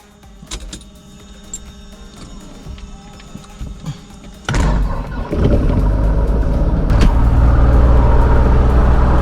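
A Piper Cherokee 235 propeller plane cranks over with a few sputtering clicks, then the engine catches and settles into a loud, steady close-up roar that builds further and holds.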